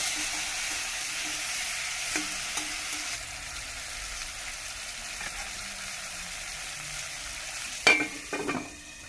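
Tomatoes fry in a small pan with a continuous soft sizzle and occasional stirring scrapes, nearby and moderately loud, with a sharp clatter near the end.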